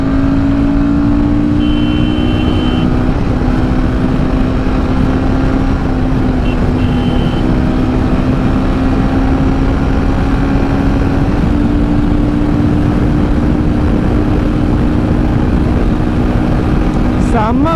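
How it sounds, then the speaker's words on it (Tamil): Royal Enfield Guerrilla 450 motorcycle exhaust note while riding, a loud, steady engine drone with strong wind blast and a few small shifts in pitch, sustained throughout. "நீங்கள் வண்டியோட எக்ஸாஸ்ட் நோட்டை வந்து லிசன் பண்ணுங்கள்"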